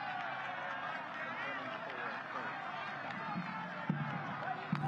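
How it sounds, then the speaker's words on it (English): A football crowd massed along a fence line at a U.S. Open Cup match between New York Red Bulls and DC United makes a steady, distant roar, with scattered claps, beneath a talking voice. "This crowd gathering along this fence line, trying to urge their side to finish this last few minutes."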